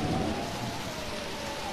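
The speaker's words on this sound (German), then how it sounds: "da wurden wir plötzlich von einem Unwetter überrascht." Steady thunderstorm rain with a low rumble of thunder from the German-language Pokémon Mystery Dungeon: Explorers of Sky game, a continuous loud wash of downpour with no voices.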